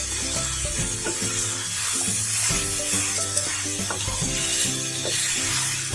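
Chicken tehari ingredients stirred together in a pot, giving a steady sizzle with scraping and clinking of a utensil against the metal, close and continuous throughout.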